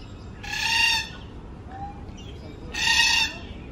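A white cockatoo in a Hong Kong park aviary gives two loud, harsh screeching calls about two seconds apart, with a fainter call between them over steady background noise.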